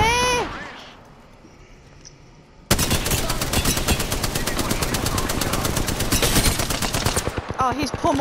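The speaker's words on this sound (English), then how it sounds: "I just shot him as well a few times." Sustained rapid gunfire in the battle royale game Apex Legends, loud and close, bursting in abruptly after a quieter stretch and running almost continuously for about five seconds, with brief voice chat at the edges.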